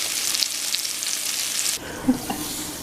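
Salisbury steak patties frying in a pan, a close, bright, steady sizzle that drops suddenly partway through, followed by a couple of soft knocks.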